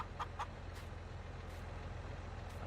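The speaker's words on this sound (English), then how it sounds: "We've got quite a sizable amount of chickens in here." Chickens in a farming game cluck faintly, a few short clucks early on over a steady low droning background hum, fairly quiet and distant.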